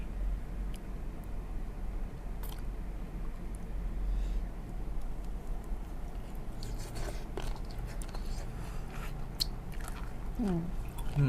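Raw squid sashimi with wasabi being chewed close up, with soft wet bites and squishy mastication sounds, faint against a quiet background.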